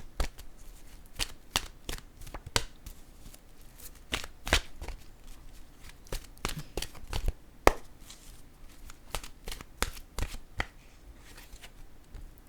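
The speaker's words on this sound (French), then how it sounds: "je vais maintenant piger une nouvelle carte de mon oracle" Oracle cards being shuffled by hand, a close and quiet run of sharp slapping riffles at an uneven pace that continues for several seconds, with no talking.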